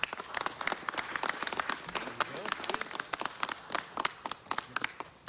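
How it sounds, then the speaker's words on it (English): Scattered applause rises and falls from the room at a city council meeting, with speech mixed in over the clapping. "Let's give them all another round of applause."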